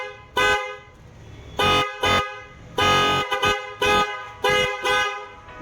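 A loud, brassy aftermarket car horn of the type used on Skoda cars, fitted to a modified Bajaj Pulsar RS200 motorcycle, honks repeatedly in short blasts, close by, with a few quick double toots between longer presses.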